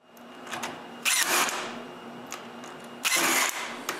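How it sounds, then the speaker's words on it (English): Glued piece of wood being screwed into a wooden bandsaw frame with a power driver, two short bursts of whirring motor, fairly close, with quieter workshop handling noises between them. "So I glue and screw it in place."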